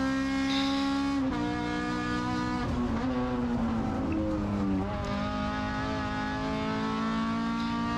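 A car climbs a mountain road under load on Sljeme, its engine giving a steady, loud drone with shifting pitch and a brief dip midway as the revs change.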